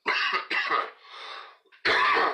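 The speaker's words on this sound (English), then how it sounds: "Coughing jag." A coughing fit: a quick run of harsh, close coughs, a brief raspy exhale, then another loud cough burst.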